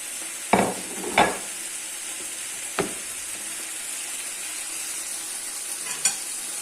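Quinoa sizzles quietly and steadily in a pan with a little oil while a utensil scrapes and stirs it in a few short strokes.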